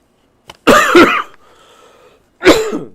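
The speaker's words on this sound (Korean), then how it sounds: "제가 오늘 잔기침이 좀 많이 나오네요" A man coughs twice, a sharp double cough followed by a pause and another cough, close and loud, during a political talk broadcast.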